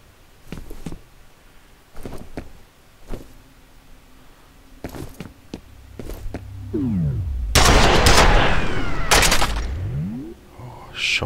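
Enemy shotgun blasts in F.E.A.R. come as sharp, isolated bangs spaced a second or two apart, then a loud chaotic burst of gunfire with whooshing, sweeping effects near the end.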